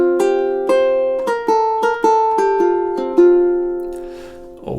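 A ukulele and acoustic guitar duet plays a melody of about ten plucked notes in an even rhythm, each note ringing and decaying before the next, clear and unaccompanied by speech.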